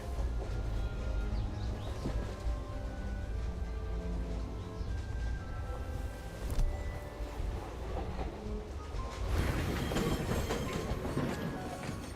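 Tram rolling along rails in the game Syberia: The World Before, a steady low rumble with rail clatter and hum continuing throughout, growing slightly busier and brighter toward the end.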